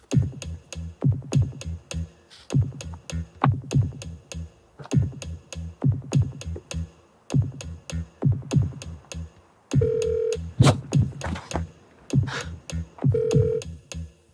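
A phone ringtone plays in repeated rhythmic bursts, loud and close, cycling through its pattern several times with short gaps and a couple of brief beeps.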